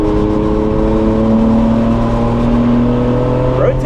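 BMW E36 M3 sedan on a race track, engine droning loud and steady with a rising tonal whine and tire-road rumble, heard from inside the cabin with no talk.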